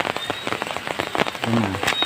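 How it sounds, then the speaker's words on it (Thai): Rain falling steadily outdoors beside a waterside fish-trap site in Thailand, a dense patter of drops on surfaces close by, continuous and fairly loud with no talking. "ฝนตกนี่เริ่มเบาแล้ว"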